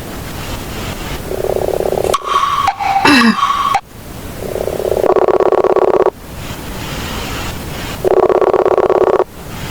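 A phone ringback tone sounds in long repeated buzzing pulses with gaps of silence between them, loud and close, with a brief burst of other audio between the first two rings.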